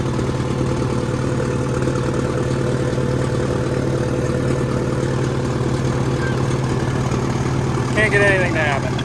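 A 1966 CAT 955 crawler loader's diesel engine idles steadily, a loud, constant low rumble that fills the whole stretch, with a brief faint squeal near the end.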